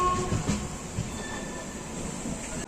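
Machilipatnam-Bidar SF Express, an LHB-coach train, arriving at a station at night, steady rolling rumble with faint wheel squeals drawn out above it, close and continuous.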